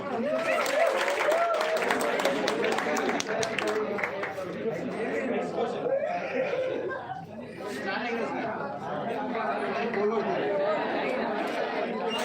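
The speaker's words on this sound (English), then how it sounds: "Claps." An audience at a blockchain technology class claps: a burst of mixed, fairly close clapping early on that gives way to lively crowd chatter and talking.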